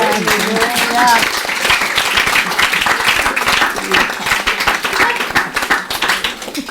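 A church congregation gives loud, sustained applause and clapping to praise the Lord, and voices and cheers carry on underneath throughout.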